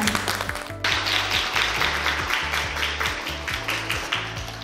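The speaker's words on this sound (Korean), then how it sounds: "저희 제자들에게 큰 박수를 보냅니다." Applause from an audience at a design department student project presentation in a hall, steady dense clapping sustained throughout with no speech.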